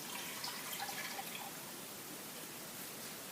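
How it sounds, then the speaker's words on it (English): Milk pouring into a saucepan, a faint, soft liquid trickle with light splashing heard close by for a few seconds. "I'm going to start by adding 2 cups of milk"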